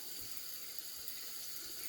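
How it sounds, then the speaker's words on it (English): Cold water runs steadily from a bathroom sink tap, a continuous close hiss and splash that stays at an even level with no talking. "I'm gonna rinse off out of the running water and cold water out of the sink."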